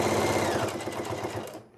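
Close, loud whirring of a sewing machine stitching a cosplay costume, a rapid steady run that slows and stops abruptly at the end.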